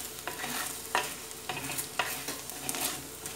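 Okra curry with freshly added spice powders sizzles softly in a pan while a spoon stirs it, giving irregular scraping knocks about every half second over a low frying hiss, close by with no speech.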